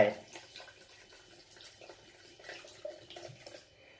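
Plain water is poured into passion fruit juice made from three passion fruits, giving a soft, steady pour with faint splashing that fades near the end.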